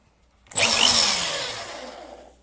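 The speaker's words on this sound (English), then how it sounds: "Plug my drill in, switch is off. Nothing, switch on." An electric drill whirs up abruptly and runs steadily for about two seconds, loud and close, its motor hum slowly easing off.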